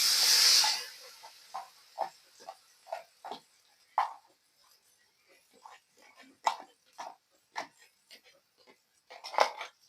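Spices hit hot oil with a loud burst of hissing sizzle at first, then a long run of quieter intermittent spits and crackles as the oil settles.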